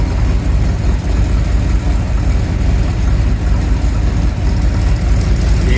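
An old squarebody pickup truck idles on a cold day through its old exhaust pipe, a loud, steady low rumble with a constant throb and no revving.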